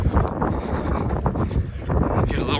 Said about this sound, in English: So we got a little wind today, 20 mile an hour wind, but that's all right.